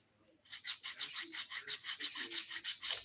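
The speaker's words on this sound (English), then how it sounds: "I'm just smoothing these all out now since I trimmed the length." A nail file smooths freshly trimmed fingernails in a quick, steady series of about a dozen close, raspy back-and-forth strokes, with no voices.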